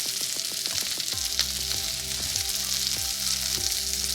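Sliced onion hits a hot frying pan for a rib eye burger, a loud close hiss and crackle that holds steady for a few seconds, with no talking.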